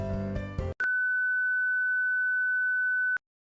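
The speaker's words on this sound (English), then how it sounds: "That's not a warm welcome with that beep." In the Lobotomy Corporation video game, a brief burst of synthesized tones cuts off and gives way to a loud, steady, pure electronic beep that holds for over two seconds before stopping abruptly.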